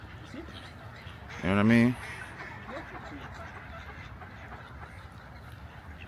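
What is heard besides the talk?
ducks quacking on ice in Central Park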